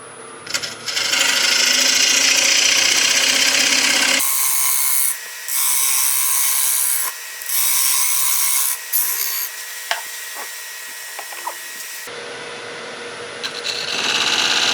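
A woodturning lathe cuts a tenon in black gum wood, giving loud, continuous scraping and hissing from the tool on the spinning blank, broken by short pauses where the cut stops and restarts.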